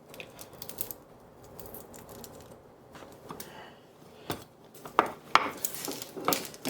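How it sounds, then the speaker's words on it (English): Garlic cloves smashed with a knife on a cutting board produce sharp irregular knocks and clacks, growing louder and more frequent toward the end, close and without talking. "Easy way to peel your garlic is just smash it with the knife"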